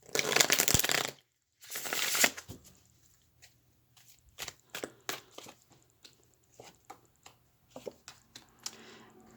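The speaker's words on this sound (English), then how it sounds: "I'll do one more shuffle." Two bursts of tarot card riffling and shuffling, followed by scattered soft taps and slaps of cards being handled, close by and without talk.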